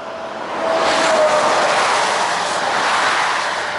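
Road traffic on the Pskov road, where heavy trucks are allowed, swells into a loud rushing roar as a vehicle passes close by, then holds a steady hum.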